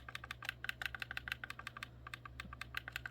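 Crisp, rapid clicks from the bumper buttons of a G6 Pro Star Flash game controller, pressed repeatedly in quick irregular bursts, close and fairly quiet.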